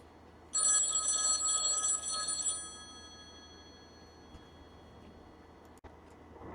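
A telephone rings loudly for about two seconds with a bright electronic trill, then cuts off and leaves a quiet room with faint background hiss.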